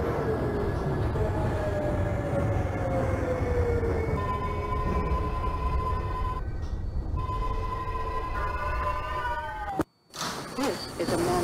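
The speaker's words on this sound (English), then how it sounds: "This is a Manhattan-bound 2 train." A 2 subway train in the OpenBVE train simulator runs with a continuous rumble and whining, rising and falling motor tones, briefly cutting out near the end before resuming.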